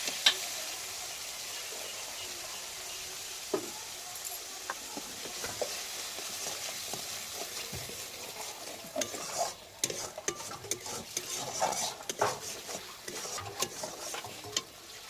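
Mustard and poppy seed paste frying in a pan, a soft steady sizzle running throughout with scattered utensil scrapes and clicks growing busier toward the end.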